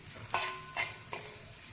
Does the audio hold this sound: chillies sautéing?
yes